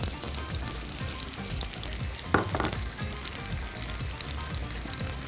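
Chicken skin sears in a pan over high heat, a continuous close sizzle and crackle with one brief louder spatter partway through.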